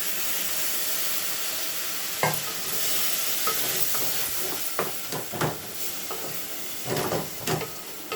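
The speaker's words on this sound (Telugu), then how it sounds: "ఇప్పుడు టమాటా వేస్తున్నాను" Chopped tomatoes frying in a pan for goat head curry, a constant bright sizzle and hiss with several scraping stirs of a spoon through the mix, fairly close and alone.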